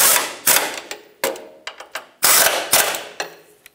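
Rapid ratcheting bursts from a wrench running 19 mm fasteners down to seat them on a front lower control arm of a 1996-2002 Toyota 4Runner, with loud, close clicks in short repeated runs.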